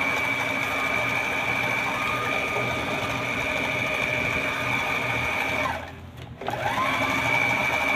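A Brother sewing machine runs steadily on its foot pedal, with a constant whirring hum close by, then briefly slows and stops for a moment before starting up again.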